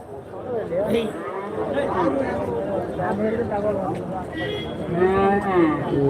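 Cattle and calves moo repeatedly at a busy cow market in Karimangalam, with loud overlapping calls from several animals close by over a steady crowd murmur and people talking throughout.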